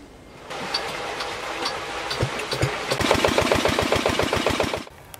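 A pond aerator machine runs with a steady engine-like drone that builds after a faint start, then settles into a rhythmic chugging pulse before cutting off abruptly near the end.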